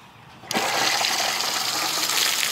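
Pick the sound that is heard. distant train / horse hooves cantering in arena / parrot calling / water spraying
water spraying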